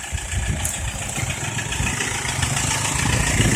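A car engine idles during a driving lesson, a close, steady low rumble with light clatter that holds for a few seconds with no talking.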